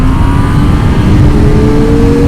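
A car engine in second gear revs hard toward 9,000 RPM, giving a loud, sustained high-pitched whine that climbs steadily in pitch from start to finish.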